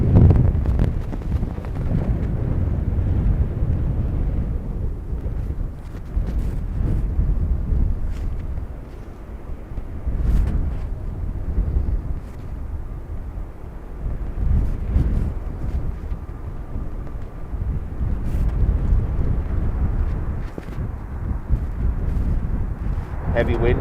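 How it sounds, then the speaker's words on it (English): Strong, blustery crosswind at Dublin Airport buffets the microphone with continuous low rumbling gusts, while someone talks over it throughout. "Heavy wind push under the left wing there, keeping them tilted this direction."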